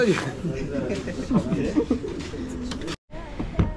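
Racing pigeons coo repeatedly in soft, throaty bursts, several birds overlapping nearby, with people talking in the background during basketing for a 430 km race.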